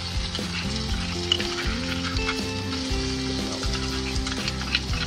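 Crushed ginger and garlic sizzling in hot oil with cumin seeds for chole, a loud close crackle and hiss running continuously, with stirring scrapes and a low tonal hum beneath.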